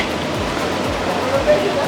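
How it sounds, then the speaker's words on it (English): Fresh spring water pours from a well in Sintra, a continuous close splashing rush that holds steady for the brief moment. "So fresh spring water, which apparently you can drink straight."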